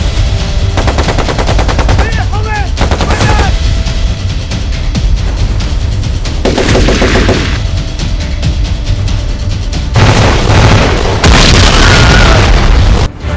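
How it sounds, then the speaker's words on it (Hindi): A car bomb blast and heavy gunfire on a roadside in a war zone, loud booming explosions broken up by rapid bursts of machine-gun fire and sharp shots, all close and intense. "अचानक सड़क के किनारे खड़ी एक छोड़ी गई कार में धमाका हुआ।"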